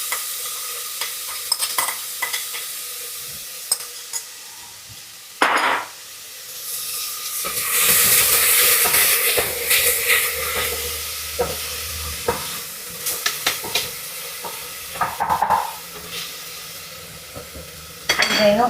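Chopped onions frying in hot coconut oil in a pan, a steady sizzle swelling as they go in, with repeated scraping stirs and clinks of a utensil against the pan.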